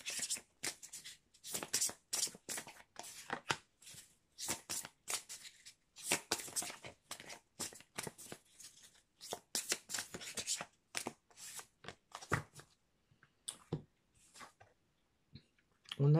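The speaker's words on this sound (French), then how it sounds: "on va prendre des cartes dans l'oracle du Cantique pour nous donner des précisions, des messages supplémentaires" Oracle cards from the Cantique deck are shuffled and drawn by hand, a steady run of quick, close papery riffles and flicks with short pauses between bursts and no talking.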